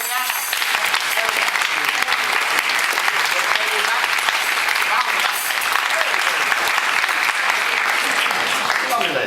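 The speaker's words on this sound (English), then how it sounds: "A nice round of applause for Leanna" Audience at a charity gala stage magic show applauds a volunteer named Leanna, steady broadband clapping sustained throughout at close range with some cheering mixed in.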